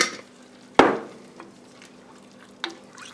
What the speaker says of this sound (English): I like to add just a little bit of water to that jar and shake it up and get that excess out